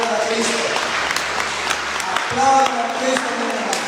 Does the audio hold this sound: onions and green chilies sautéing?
no